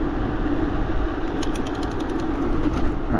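A BBS02 mid-drive electric bike motor pushed at high speed on a 72V setup gives off a loud, steady mechanical whine and rumble with wind noise, continuous throughout.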